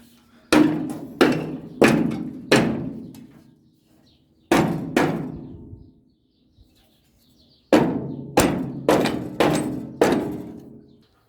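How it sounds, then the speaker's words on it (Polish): Loud metallic hammer blows in three bursts: four strikes, a pause, a single strike, a longer pause, then five more, each ringing briefly before fading. "Trochę walnąłem młotem."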